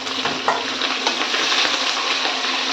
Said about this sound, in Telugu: ఈ పచ్చిమిరకాయలు ముందుగా వేసుకుందాం